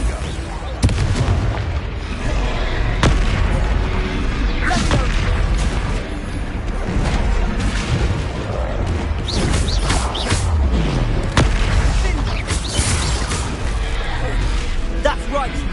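Confringo fire spell explosions striking a troll in a wizarding video game, repeated booming blasts over a dense, loud battle din with voices.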